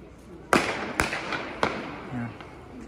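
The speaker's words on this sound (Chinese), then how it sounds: "在河里面放烟花，没有什么危险性，还是挺漂亮的。" Fireworks set off over a river near a pedestrian street on Chinese New Year's Eve, heard as three sharp bangs about half a second apart at moderate distance, with faint background murmur between them.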